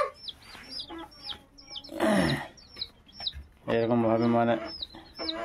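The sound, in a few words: chickens clucking on a poultry farm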